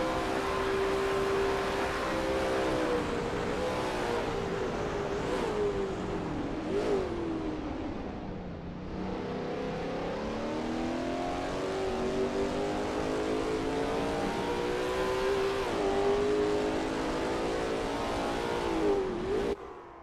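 Lola T70 MkII Spyder race car on its out lap at Bathurst in a racing video game, the engine loud and continuous, its pitch climbing and dropping repeatedly through gear changes and corners, with no voices.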